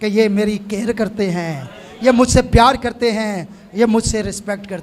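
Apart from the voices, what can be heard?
None of the usual background noises is heard.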